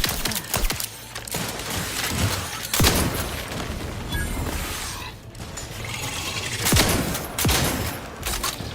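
Shotgun blasts ring out in the video game The Outer Worlds, with several sharp, loud reports spaced irregularly over a dense, continuous layer of game noise.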